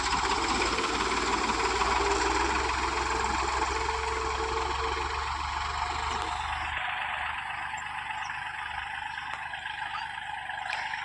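A tractor engine drones steadily while sowing wheat with a multi-tined seed drill, a continuous loud rumble that drops and thins partway through, with no talking.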